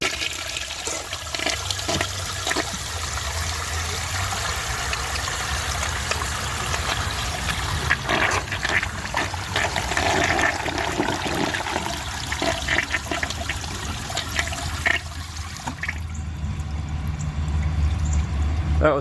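A toilet flushes during a plumbing test, with rushing, gurgling water that surges and swirls for many seconds but never pulls into a siphon, then thins to trickling and refilling near the end.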